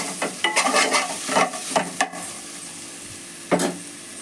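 Softened tomatoes are stirred in a pan for a ridge gourd peel chutney: a low frying hiss under several distinct scraping strokes, close and fairly loud, spaced irregularly and then ending in a quieter sizzle.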